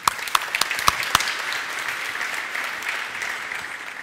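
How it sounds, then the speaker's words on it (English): At a science slam event, a handful of sharp scattered claps sound in the first second before fading into a low, steady room murmur. "Let's also give her a round of applause."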